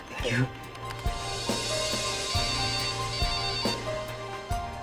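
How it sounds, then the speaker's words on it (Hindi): A mobile phone rings with a looping electronic tune, its repeated tones and steady pulses heard indoors at moderate volume while people talk. "सर आपका मोबाइल बज रहा है क्या?"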